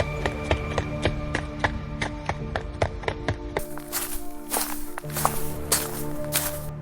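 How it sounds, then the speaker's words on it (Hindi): Footsteps in a horror story, a steady run of crisp taps that grows louder and busier in the second half, with a low droning background under the steps. "फिर वही कदमों की आवाज"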